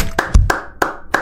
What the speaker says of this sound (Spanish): Me aplaudo a mí mismo porque soy muy inteligente.